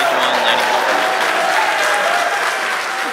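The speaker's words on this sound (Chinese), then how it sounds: "俾啲掌声唔该" A crowd applauds, a dense and loud wash of clapping that holds steady for about three seconds and eases only slightly at the end.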